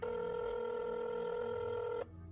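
A telephone tone sounds loudly and steadily for about two seconds, then cuts off abruptly, leaving a faint hum.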